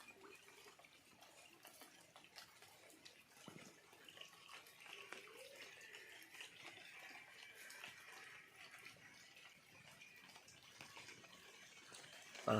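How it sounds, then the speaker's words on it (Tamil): Heavy rain falls in a steady, low hiss, faint and continuous, with no break across the whole stretch. "மழை பேஞ்சிக்கிட்டே இருக்குது பாருங்கள்"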